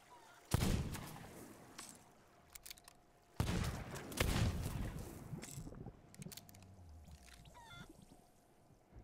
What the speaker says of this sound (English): I'm shooting it.